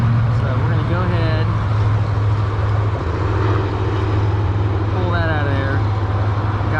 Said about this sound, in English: normally the road noise is not this terrible bad